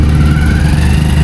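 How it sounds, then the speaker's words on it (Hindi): A motorcycle engine on a muddy off-road trail runs loud and steady, with a continuous close rumble and no clear rise or fall in revs. "देखो स्टार्ट कर लिया अभी बाइक को"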